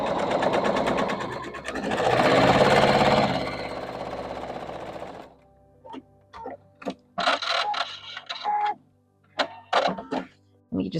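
Sewing machine stitching quilt pieces for a Christmas quilt with a scant quarter-inch seam, heard first as a long steady run, then as short repeated bursts of stitching after a pause.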